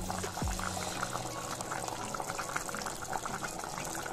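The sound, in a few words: chicken curry with tomato boiling in a pressure cooker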